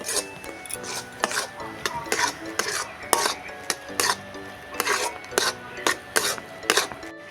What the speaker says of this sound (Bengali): এক বাটি সুজিটাকে ভালো করে আমি নেড়ে নেব